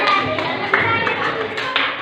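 Classroom applause for a student, a dense wash of many hands clapping steadily for about two seconds, fairly loud, with a few sharper claps standing out.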